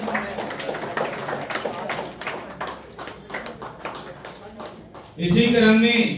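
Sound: audience clapping at an annual function

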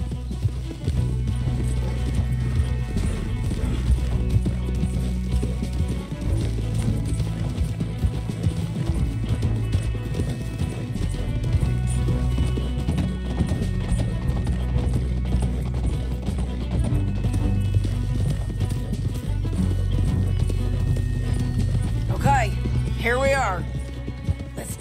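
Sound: horses galloping in Red Dead Redemption 2 video game

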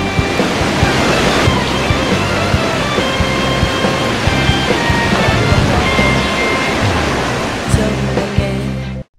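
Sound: Guanyin waterfall in Zhuqi, Chiayi, cascading down cliff

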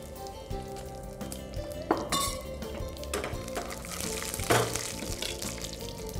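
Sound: dry red chillies and curry leaves sizzling in oil

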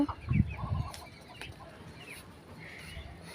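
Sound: chickens clucking on a rooftop

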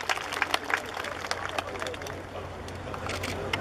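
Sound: audience applause welcoming the acting mayor

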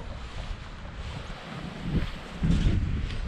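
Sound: wind blowing by the water while pike fishing

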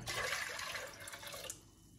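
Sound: cold water poured into a pot

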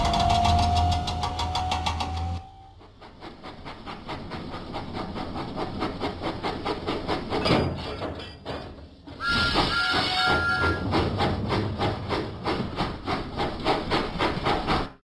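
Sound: steam locomotive puffing, from Thomas & Friends video game

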